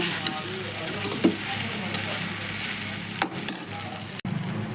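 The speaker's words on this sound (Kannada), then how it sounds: "ಇದೆಲ್ಲ ಒಂದ್ಸಲ ಸೇರಿಸಿ ಕಲಿಸ್ಕೊಂಡ್ಬಿಡೋಣ" Leftover idli pieces being stirred together with salt and sugar in a bowl, a steady soft mixing and scraping that runs close and continuous, with a few brief knocks and no talking.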